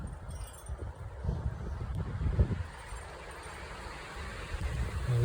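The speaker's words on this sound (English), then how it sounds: "He said the wind is worse up here." Strong wind buffets the microphone on a mountain peak during a hike on a dangerously windy day, a steady low roar with gusts swelling and easing throughout, loud and close, with no talking.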